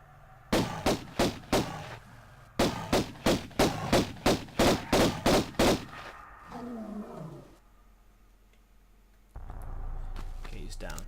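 Gunfire from the original Tomb Raider game, first released on Sega Saturn, rings out as a quick volley of about four shots, then a longer burst of roughly eight evenly spaced shots, followed by a low roar and rumbling game sounds.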